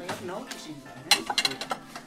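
Ceramic dishes and teacups, shown as items that could hold adobo, clink with a few light, close taps and rattles. Most of the contacts fall in a short cluster near the middle, and some faint room noise surrounds them.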